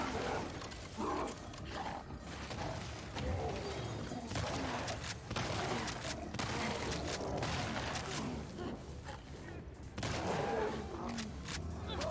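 Repeated gunfire aimed at a bloater in The Last of Us Part II, shots scattered through dense, busy combat noise with mechanical clatter and creature growls.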